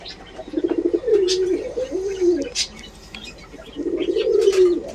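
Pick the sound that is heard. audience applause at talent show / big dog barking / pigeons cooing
pigeons cooing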